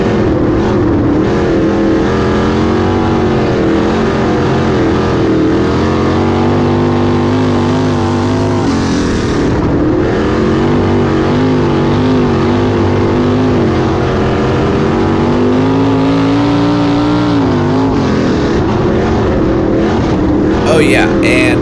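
Traditional 410 sprint cars racing on the Eldora Speedway dirt track, a steady loud engine roar throughout with pitch rising and falling as the cars accelerate and lift, no clear pauses.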